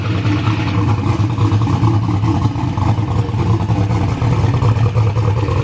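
A Ford engine on an LS build revs hard on a dyno during a racing shop test, a loud, continuous droning roar held close with no talk over it.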